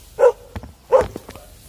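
Dog barking, two short, loud barks close by with brief soft noises in between.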